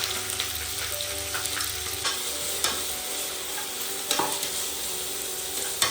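Sliced onions frying in a pan for Kerala chicken biryani, giving a loud continuous sizzle punctuated by repeated spoon scrapes and taps against the pan, close and with no one talking.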